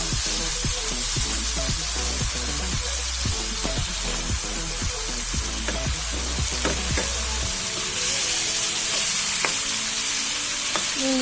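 Chicken dry-frying in a pan, a steady close sizzle broken by repeated scraping clicks as a spoon keeps stirring, the hiss continuing throughout with no voices.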